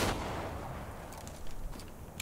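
Gunfire in the video game Resident Evil: a loud gunshot blast at the start that fades into a rumbling decay, followed by a few fainter sharp impacts, with no talking.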